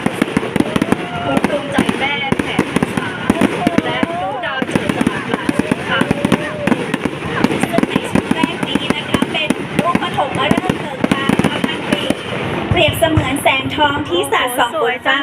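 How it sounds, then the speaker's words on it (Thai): Fireworks burst over a park during a National Mother's Day celebration in Laem Chabang, Thailand, a dense run of cracking pops and booms throughout, mixed with crowd noise and music, growing busier near the end. "เป็นพลุที่ยิ่งใหญ่สว่างสวยนาท้องฟ้าของสวนเฉลิมพระเกียรติ 80พรรษา"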